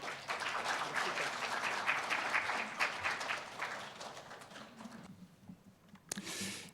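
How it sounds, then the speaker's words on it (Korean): Audience applause at a Seoul international forum welcoming the panelists to the stage, steady dense clapping that thins out toward the end, followed by a brief final burst. "박수로 환영해 주십시오"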